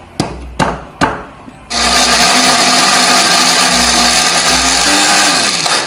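A kitchen blender grinds chili spice paste loosened with water or oil: a few sharp knocks first, then a loud, steady motor whir that runs continuously to the end, slightly changing pitch near the finish.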